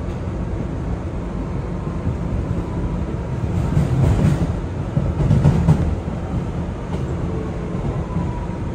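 An R211 subway shuttle train on the Rockaway Line in New York rumbling steadily along the tracks, with a louder rattling swell midway, heard from inside the car.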